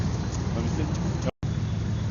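A truck engine, treated with Prolube oil additive, idles in a steady, close, broadband rumble that cuts out briefly for a moment near the end.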